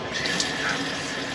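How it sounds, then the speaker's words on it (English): A water pump runs steadily on a boat, pushing water into the bilge with a continuous rushing, gushing flow that stays even and close throughout. "The pump working away, pump of water in, and you can see it's all going into the bilge"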